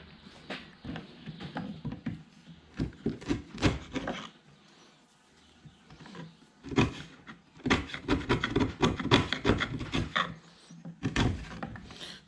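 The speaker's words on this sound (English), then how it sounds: "So I won't bore you too much about chiseling, but that's basically the process." Square holes being chiseled into 80-year-old recycled timber, with bursts of rapid close scraping and rasping cuts in uneven groups, separated by brief pauses.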